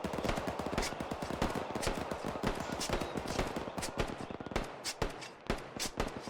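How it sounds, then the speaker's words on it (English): Rapid cracks of gunfire in Arma 3 snap out in dense bursts, with a few sharper isolated reports near the end, all fairly quiet and clipped like distant rifle fire in a battlefield game. "I've heard him fire 2 shots."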